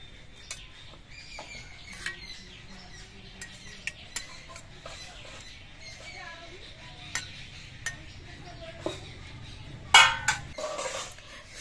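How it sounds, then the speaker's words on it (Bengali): Boiled eggs are stirred into a pan mixture for an egg curry, with soft scraping and light clinks of a utensil against the pan recurring every second or so, and a sharper metallic clatter near the end. "এবার এর মধ্যে আমি সেদ্ধ করা ডিমগুলো সাজিয়ে দিচ্ছি। একটু নেড়ে চেড়ে মিশিয়ে দেব।"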